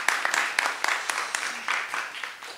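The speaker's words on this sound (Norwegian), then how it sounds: "Så, applaus, eller?" Light, scattered applause from a small audience at a book launch event: separate sharp claps stand out against a thinner wash of clapping, fairly faint and uneven, with no voices.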